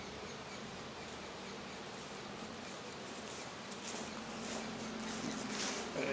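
Honeybees hum in a dense, continuous buzz close by while a nucleus hive is opened for inspection, swelling a little louder toward the end.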